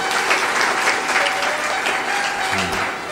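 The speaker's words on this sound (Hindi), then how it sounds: "जोर से ताली बजाओ" A large audience at a guru's spiritual discourse claps loudly and continuously in a dense, steady roar of applause, with a low voice briefly surfacing near the end.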